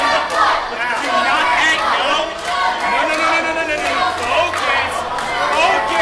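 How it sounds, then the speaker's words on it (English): A wrestling crowd in an arena chants and shouts in a loud, continuous roar of massed voices, with a commentator talking over it. "whatever it is the crowd's chanting right now"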